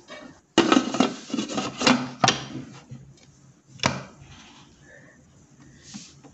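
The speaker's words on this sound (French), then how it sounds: "Ensuite, je ferme mon couvercle." A Thermomix lid is set and closed on the kitchen appliance with a few sharp plastic clunks and rattles, a clear click of it locking, then quieter handling noises.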